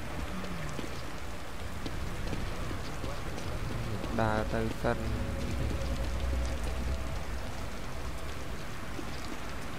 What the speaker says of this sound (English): Rain is gonna wash away any evidence.